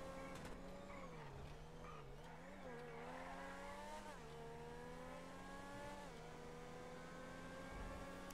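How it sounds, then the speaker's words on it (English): A car engine in the GTA 5 video game revs with a wavering, tonal drone that dips and climbs in pitch, then rises steadily toward the end. The sound is quiet throughout. "This car sounds awesome."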